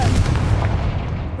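Confringo fire spell explosion in Hogwarts Legacy, a loud, heavy booming blast with a rumbling low-end tail lasting about a second, close and dominant.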